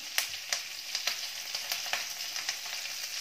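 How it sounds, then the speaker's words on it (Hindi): Curry leaves and crushed green chillies fry in hot oil over a low flame, a steady soft sizzle broken by occasional sharper pops and spatters, close and fairly quiet, with no voices. "अब इनको भी 1-2 मिनट भून लेंगे, गैस को सिम पे ही रखना है।"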